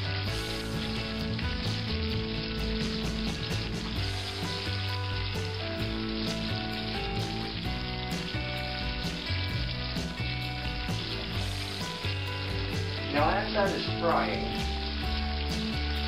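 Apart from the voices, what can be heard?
chicken drumsticks deep frying for country fried chicken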